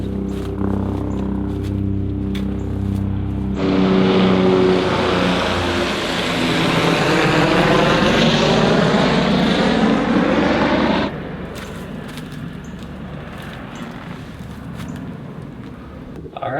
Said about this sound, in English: I had several of them fly directly overhead that afternoon